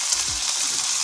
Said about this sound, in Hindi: बर्तन गर्म हो गया, मैं घी डालने लगी हूँ दो चम्मच। अब इसमें पहले गाजर फ्राई करूँगी